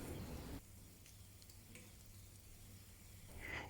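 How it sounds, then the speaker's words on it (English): Samosas deep frying in hot oil, a steady close bubbling sizzle with a low hum that rises briefly to a louder hiss at the start and end, no talking. "Drop the samosas into the oil."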